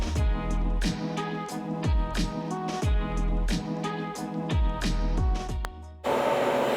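A sawmill blade cuts through a white oak log with a loud, steady tonal whine that surges in regular rhythmic swells, ending abruptly in a burst of harsh noise.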